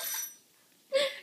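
A short electronic alarm tone rings out near the end after a quiet pause, with a brief bright ringing burst at the start as well.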